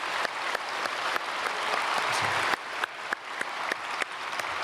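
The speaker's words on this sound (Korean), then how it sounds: "우리 잠깐 자리에서 일어나 주시면 저희가 박수로 환영하고 축복하겠습니다." A church congregation at Sunday worship applauds to welcome visiting prison officials, a warm, dense patter of many hands with several sharp, close claps punctuating the steady sound.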